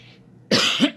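A single person's cough, sharp and close, bursting after a quiet lead-in with a second harsher push right behind it, all within one second.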